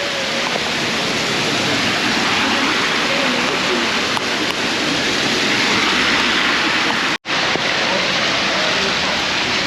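Heavy rain pours steadily at a bus stop near Lake Annecy, a loud, dense wash of hiss broken only by one brief gap.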